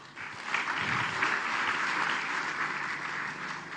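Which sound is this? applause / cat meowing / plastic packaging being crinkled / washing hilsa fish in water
applause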